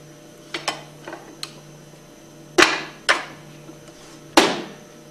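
A seal is pressed out of a plunger pump casing with a bolt or piece of PVC pipe, a handful of sharp metallic knocks and taps spaced irregularly, close and fairly loud with no talking.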